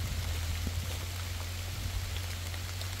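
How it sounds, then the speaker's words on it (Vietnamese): Rain falls steadily on a rubber plantation, a dense, even hiss of drops with a low constant hum underneath and no voices. "Trời đang mưa."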